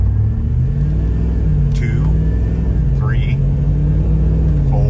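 Jeep fitted with a 6.4 Hemi V8 and an 8-speed automatic, pulling hard from a stop with a steady, loud engine rumble heard from inside the cabin. Two rising shift-like sweeps break the drone.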